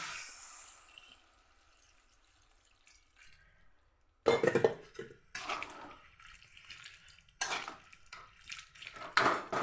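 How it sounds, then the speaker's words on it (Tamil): After a quiet stretch, half a litre of water is poured into a metal cooking pot for kara kulambu in splashy bursts, close and clear, stopping and starting a few times. "இப்போ நம்ம ஒரு 1/2 லிட்டர் தண்ணி மட்டும் ஊற்றிக்கணும்"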